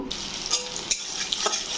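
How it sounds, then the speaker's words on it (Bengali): Green chillies sizzle and crackle in hot oil in a pan, with a steady frying hiss and a few sharp stirring scrapes, close and moderately loud, no talking. "এখানে আমি সব এগুলো দিয়ে দিব, দিয়ে ভালো করে ভেজে নেব"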